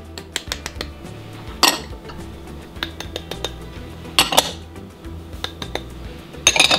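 Seasoning ingredients for a Cajun tempeh coating added into a bowl, with bright clinks and taps of spoons against the dish, scattered irregular hits and a few louder clusters.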